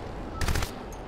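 Short burst of gunfire in the Crysis video game, a cluster of sharp shots lasting about a third of a second, fairly loud over a low background rumble.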